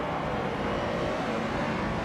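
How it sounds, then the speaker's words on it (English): Classic 1974 Porsche 911 Carrera RSR race car at the start of a race at Circuit Assen: a steady, continuous engine drone with a broad roar, moderately loud and unbroken, no talk. "the race is just getting underway at Circuit Assen Autosport track. TTV missed 149, driving a classic 1974 Porsche"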